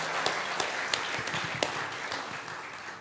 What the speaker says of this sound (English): So a round of applause for that, ladies and gentlemen.